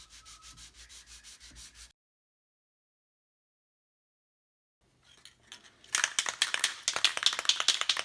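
Quiet scratchy rubbing at first, a long silence, then brisk rhythmic sanding strokes, rapid back-and-forth scraping of high-grit sandpaper on a guitar kit headstock, close up.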